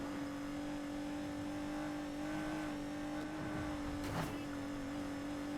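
A Nissan GT-R Nismo in the racing video game Need for Speed Heat, its engine accelerating as a steady, loud droning hum, with a brief whooshing swell near the end.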